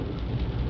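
Rain drumming steadily around a front-wheel-drive turbo diesel Mk4 VW Golf on the road, a continuous dense hiss with low rumble underneath, no voices.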